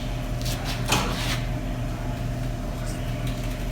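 A Tommy Gate liftgate installed inside a newer-model Ford Transit runs on its electric motor, giving a steady, close mechanical hum with a brief knock near the start.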